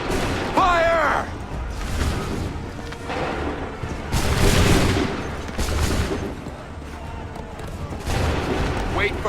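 Musket volleys in the Assassin's Creed III video game: several loud booming rounds of massed gunfire crackling out in bursts across the scene, with a shouted voice near the start.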